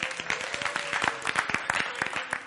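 Audience clapping during a church sermon, with sparse, uneven hand claps in a loose irregular rhythm against a busy room background and a steady hum.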